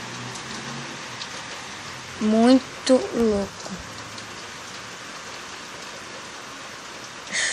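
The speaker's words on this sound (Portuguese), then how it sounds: "Olha que chuva." Heavy rain falls outdoors in a steady dense hiss, with someone talking briefly in the middle.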